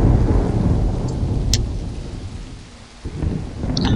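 Heavy rain in the game Black and White pours over a deep rumble of thunder that swells and fades. A sharper crack breaks through near the end of the roar.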